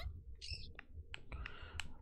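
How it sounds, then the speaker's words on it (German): Owls in the video game Phoenotopia Awakening, heard inside a cave as several short chirping hoots and clicks spaced irregularly over a low steady hum. "Ach, wieder diese hässlichen Eulen."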